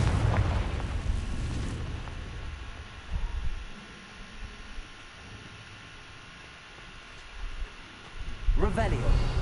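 Blasting-spell explosion in a wizard video game: a loud low boom opens the clip and another erupts near the end, with a quieter rumbling lull between them, and a voice speaks over the blasts.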